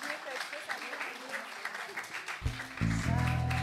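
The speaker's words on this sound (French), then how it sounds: "Une bonne main d'applaudissements à Sabi." Audience applause in a festive gathering, steady clapping running under lively talk, joined near the end by a loud sustained tonal sound.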